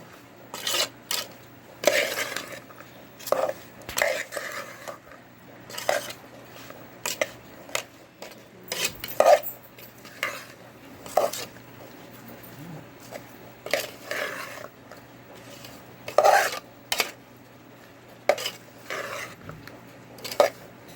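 Spice masala is stirred together for a homemade raw mango pickle, heard as a long series of close, dry scraping and clinking strokes against a bowl in an uneven rhythm, with faint low hum behind them.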